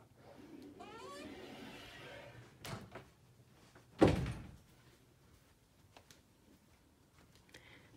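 Double closet doors in a house open and close, giving a sharp knock and thud near the middle with quieter clicks and bumps around it and some faint room noise.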